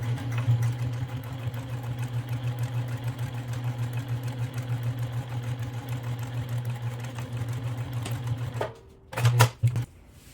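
A sewing machine runs in a steady close whirring stitch while sewing a handmade phone case, then stops near the end, leaving a few short mechanical clicks.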